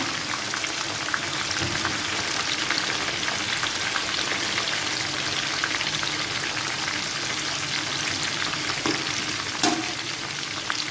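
Steady, dense sizzling of onion frying in hot oil for a Punjabi kadhi pakora tempering, continuous and close, with a few faint clinks and stirring sounds.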